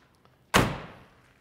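The door of a 1965 Chevrolet Corvette shuts with a single solid thunk, close and fairly loud, then fades out after a quiet moment.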